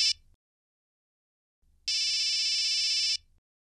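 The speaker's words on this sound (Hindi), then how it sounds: "फोन उठा लेना, कोई बार बार कॉल कर रहा है तो कुछ इंपॉर्टेंट होगा।" A phone ringtone chirps in two bursts, a short one and then a longer ringing trill after a pause, loud and close, with no talking.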